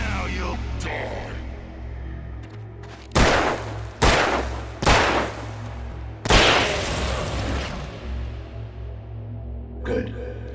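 Gunshots in the video game Alan Wake: four loud, close booming shots fired at uneven intervals, each with a sharp crack and a decaying rumble, over a low droning ambient bed.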